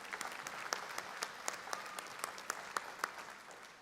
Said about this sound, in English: Let's give them a big round of applause to our Board of Trustees.